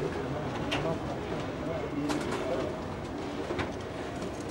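Pigeons coo softly in a pigeon loft in Abbassia, Cairo, their low calls repeating under steady background noise while people talk nearby.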